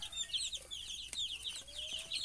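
A small chicken clucks and peeps in quick, soft, high chirps that repeat throughout, close by and fairly quiet, with no one speaking.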